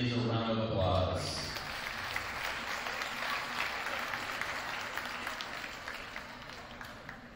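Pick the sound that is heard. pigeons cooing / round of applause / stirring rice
round of applause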